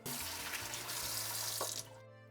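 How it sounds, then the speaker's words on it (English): Water from a tap runs into a sink close by with light splashing as potatoes are washed, then shuts off after about two seconds, leaving quiet. "The only thing I will have to do now is to wash them"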